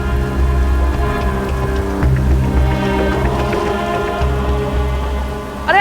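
Heavy rain pours down in a dense, steady wash, with scattered drops pattering on nearby surfaces throughout and nobody speaking.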